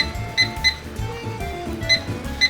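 Kitchen timer set during crab risotto cooking, a few quick high electronic beeps in pairs, near and fairly clear over a low steady kitchen hum.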